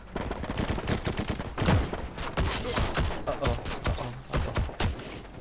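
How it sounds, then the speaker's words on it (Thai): Rapid bursts of gunfire crack repeatedly, with dense volleys and sharp single shots in an energetic, close-up battle in the game Heroes & Generals; no speech. "ยิงกันหลังตรงนั้นอะเห็นปะ"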